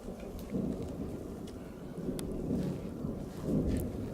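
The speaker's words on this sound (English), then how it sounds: "Hear the thunder? That's over on the next mountain range." Distant thunder rumbles over a neighboring mountain range in the Rockies in spring, low rolling swells rising and fading several times beneath steady rain and a hiss of wind, with no one talking.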